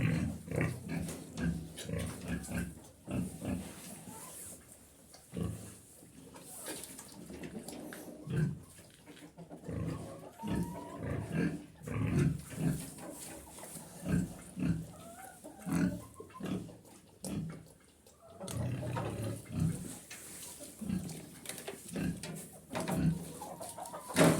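Pigs grunt and slurp repeatedly at close range as they drink water from a bucket, with wet splashing and snuffling, while chickens cluck faintly in the background.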